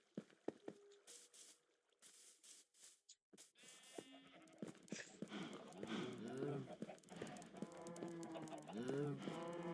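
Minecraft sheep bleat and cows moo in a blocky farm pen, several overlapping calls rising after a few soft clicks and taps at the start.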